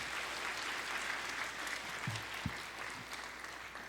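A church congregation at an afternoon service claps steadily in welcome for the pastor, a moderate, even wash of applause with a few soft knocks in the room.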